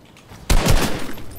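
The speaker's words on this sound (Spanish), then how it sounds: "Cuidado, disparos." Gunfire in Fortnite Battle Royale erupts suddenly as a close, loud rapid burst of shots that rings out and fades over about a second, with no talk.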